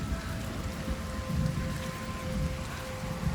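Steady rain in Senua's Saga: Hellblade 2, a dense even hiss of falling water with a low rumbling bed, continuous and fairly close throughout, with no voices.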